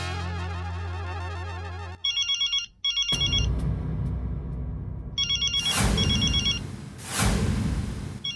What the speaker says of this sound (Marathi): टपूच्या पप्पांचा फोन आहे. फोन उचला